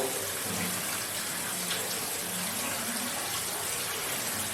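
Steady broadband rush of water pouring from a bath tap on a Reval Caprice bath, continuous and fairly close for the whole stretch, with no talking over it.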